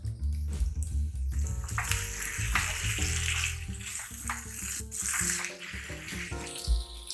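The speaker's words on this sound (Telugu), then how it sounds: "కొద్దిగా వాటర్ అనేది యాడ్ చేసుకుందాం." Water is poured into a pan of spiced ivy gourd curry, a continuous splashing pour that hisses and bubbles as it meets the hot masala, fairly close and with no voices.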